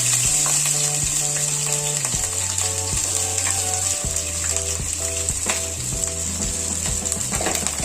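Crushed ginger and garlic fry in hot oil with a steady, loud sizzle that runs throughout, while a spoon stirs through the pan with faint clinks and scrapes. Up close, with no voices.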